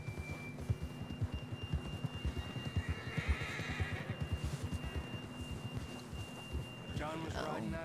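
A horse in Red Dead Redemption 2 clip-clops along in a steady rhythm of hoofbeats, then lets out a whinny near the end, with voices talking over the ride.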